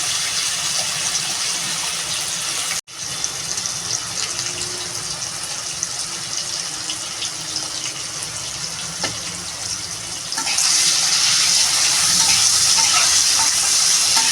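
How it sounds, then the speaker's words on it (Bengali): Potatoes fry in a pan with a constant close hiss and crackle and occasional stirring; the sizzle briefly cuts out once, then grows louder and brighter near the end. "আলুটাকে ভেজে নিই ভালো করে"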